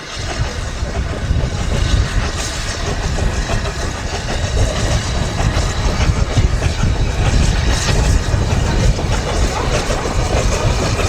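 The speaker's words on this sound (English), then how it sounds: "Oh, the train's coming past." A zoo train passes close by with a continuous rumbling roll and faint clacking from its cars, a loud, steady wash of noise that lasts throughout.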